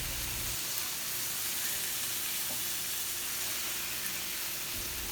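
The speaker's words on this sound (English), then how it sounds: "Grill it on both sides and then place it in the oven for about 10 minutes." Red snapper seasoned with lime, peppers and onions grilling in a pan, giving a constant, even, close sizzle throughout with no talk.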